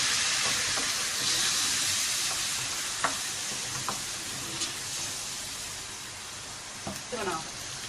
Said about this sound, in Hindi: थोड़ा पानी डालेंगे ताकि मसाला लगे ना इसका।